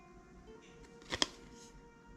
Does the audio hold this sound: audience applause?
no